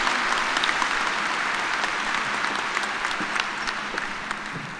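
Steady crowd applause fills a Kansas State University spring commencement hall as graduates clap for the class of 2018, a dense, even wash that eases off slightly near the end.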